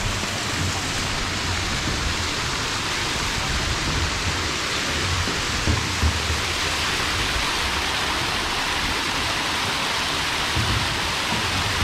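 An artificial fountain in Seashell Park spills water in a continuous, dense rush, loud and even throughout like heavy rain, with no breaks or voices.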